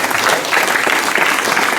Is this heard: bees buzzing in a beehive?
no